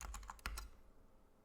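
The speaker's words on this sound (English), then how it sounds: "You can hear me typing." Typing on a computer keyboard, a quick close burst of about six crisp key clicks in under a second, then quiet room tone.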